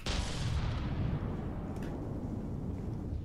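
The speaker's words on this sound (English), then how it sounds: "Whoops, I may have just shot you with the minigun." Minigun firing in the combat game From the Depths, a continuous dense roaring burst of rapid fire with a deep low rumble, loud and steady throughout with no talking.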